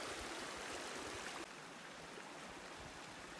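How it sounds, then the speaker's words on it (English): A small creek beside a hiking trail in the Kananaskis area of the Rockies rushes in a continuous close, even hiss of flowing water, alone without voices. "I'm not sure what creek this is, but it's kind of nice."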